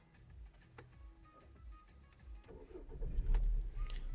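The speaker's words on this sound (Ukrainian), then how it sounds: "Давайте запустимо двигун." Skoda Octavia 1.6 gas/petrol car with 196,000 km starting up: soft clicks and cranking at low level, then the engine catches and grows louder in the last second, heard from nearby without talk.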